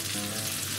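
Potato cheese mochi frying in a pan over high heat, giving a steady, dense sizzle that stays even and close throughout.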